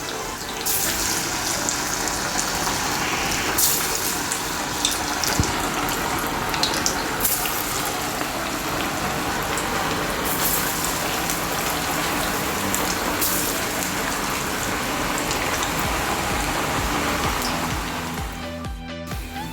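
Falafel balls frying in hot oil over a medium flame, a steady, dense sizzle and bubbling that runs close and loud for almost the whole stretch, then drops off sharply at the very end.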